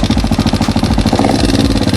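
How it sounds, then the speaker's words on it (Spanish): An NKD motorcycle engine idling close up with an annoying mechanical noise, a fast regular ticking pulse over a loud, steady low drone with no talk. "¿Cansado de este molesto ruido en el motor de tu moto?"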